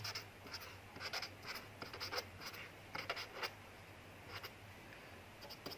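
A pen scratches across paper while math is written out, giving a series of short, quiet, irregular strokes close by, with no voices heard.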